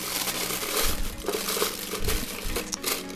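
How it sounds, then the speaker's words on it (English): A plastic pastry bag fitted with a fat tip is folded and handled while preparing chocolate mousse, giving close, uneven crinkling and crumpling in bursts with no voices. "We'll take our pastry bag, open it up there, use a very fat tip and just slide that down to the bottom."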